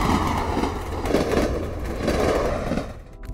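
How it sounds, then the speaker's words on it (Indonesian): A train rolls steadily along the rails with a continuous low rumble and faint rhythmic clatter of wheels, fairly close and sustained throughout, with no voices. "Tak lama, ia pun naik kereta sesuai arahan."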